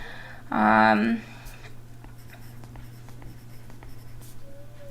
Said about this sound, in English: And I'm going to write my reminders